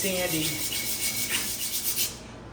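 Sanding down high spots on a brake caliper, a close scratchy rubbing with a few uneven strokes, briefly overlapped by a voice at the start and fading at the end.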